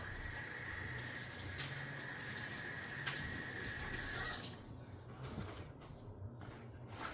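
Water from a tap rinsing an espresso portafilter, a steady hissing splash that runs for several seconds then cuts off, leaving quieter clatter and handling sounds.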